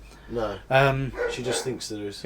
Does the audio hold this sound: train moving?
no